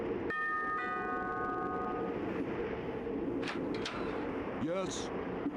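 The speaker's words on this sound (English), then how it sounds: "Old-fashioned doorbell when it was literally a bell." An old-fashioned mechanical bell doorbell rings in the video game Galerians: Ash, giving a few sustained metallic tones at the start that ring out and fade over a steady background hum.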